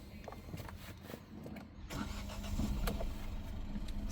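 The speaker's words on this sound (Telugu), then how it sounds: "ఇంజన్ కూడా స్టార్ట్ చేద్దాం." A 2021 Hyundai Venue SX iMT petrol car starts on a single crank, then settles into a steady idle. The engine is heard up close with the bonnet open, its sound rising slightly after the start.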